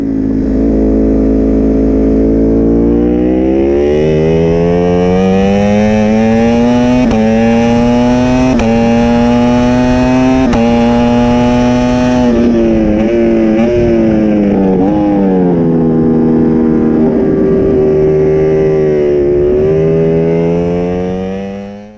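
A race car engine in a racing video game, loud and close, revving high before dropping through downshifts under hard braking, then climbing again, ending in a quick fade.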